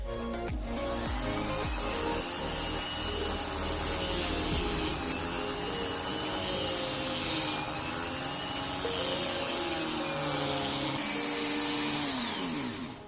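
An angle grinder cuts material for a homemade slingshot, a loud continuous high whine close by that runs for the whole stretch, its pitch dipping and recovering as the disc bites.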